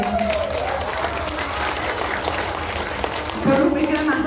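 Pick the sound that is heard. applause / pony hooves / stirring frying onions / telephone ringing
applause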